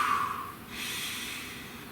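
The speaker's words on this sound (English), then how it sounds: "Please take a nice deep breath." A single deep breath drawn in through the nose, close and soft, followed by a slow exhale, with no talking.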